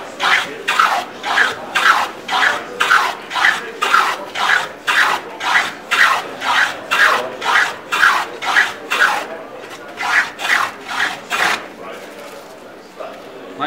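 A moving fillister plane cuts the second side of a wooden tenon in a steady series of about twenty rhythmic rasping strokes, close and loud, each stroke a short scraping burst with brief gaps between.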